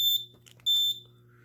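Sharp high-pitched electronic alarm chirps from a fire alarm control panel signal, a short burst then a longer one, over a steady low hum, with no talking.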